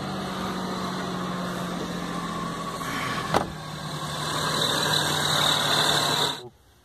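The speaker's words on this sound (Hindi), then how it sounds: "अभी गाड़ी स्टार्ट हो गई है।" A Maruti 800 idles steadily at close range after starting, with a single sharp knock midway and a slight rise in revs before the engine cuts off near the end.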